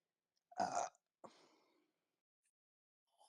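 A single loud, close burp followed by a shorter, fainter second belch-like sound, then near silence.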